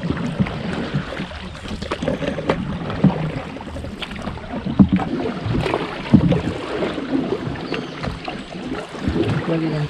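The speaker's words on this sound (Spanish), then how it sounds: "Una horita remando por aguas tranquilas." Paddling a boat along a calm river in the Huasteca Potosina, with soft irregular splashes and water swishes over a quiet outdoor background, no motor, fairly close and gentle.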